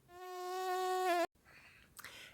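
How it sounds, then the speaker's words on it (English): A mosquito whines in a steady, close, rising buzz at a campsite in Italy, then stops abruptly, followed by faint background noise and a brief rustle. "Totem animal for Italy, of course, obviously, is the mosquito."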